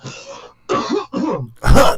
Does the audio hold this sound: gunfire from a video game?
no